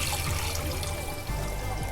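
Water poured into a pot of paruppu urundai milagu kulambu, a Tamil lentil-ball pepper curry, makes a continuous splashing rush, close and steady throughout.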